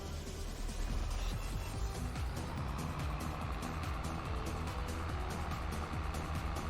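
A tractor engine in Farming Simulator 22 drones continuously with a deep, rumbling low end, steady and close throughout, running at a constant pace.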